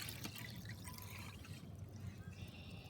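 Water pours into a container for a classroom capacity comparison, a faint, steady trickle and splash that runs for about three seconds.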